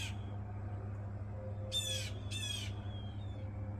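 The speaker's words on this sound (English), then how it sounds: "I bought them peanuts, and the blue jays are just going crazy" Blue jays at a spot stocked with peanuts give two harsh, raucous calls in quick succession, close and fairly loud over a steady low hum, with no talking.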